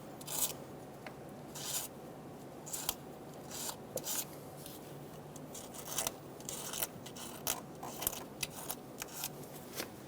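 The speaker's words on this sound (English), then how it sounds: "Using a razor blade or a light abrasive, we're going to go around and clean. We want to scrape away any old dirt or corrosion." Quiet, steady scraping and rasping of a razor blade cleaning old gasket residue off the cylinder head of a 2003–2007 Honda Accord 3.0L V6, a run of short strokes with no talk.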